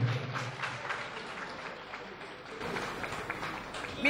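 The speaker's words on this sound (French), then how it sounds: "Applaudissez plus fort." Scattered applause from an audience at a political party congress, moderate and somewhat distant, swelling again near the end, with a voice faintly mixed in.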